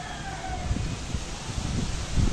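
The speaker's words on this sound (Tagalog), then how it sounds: "Malakas ang hangin" Strong wind during a storm, a steady rushing noise with gusting rumble at the microphone and faint rustling of leaves, growing louder toward the end.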